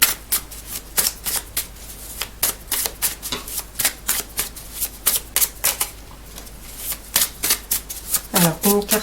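Playing cards shuffled before a tarot-style card reading, a long run of quick riffling bursts in an irregular rhythm, close and fairly loud, with a brief voice near the end.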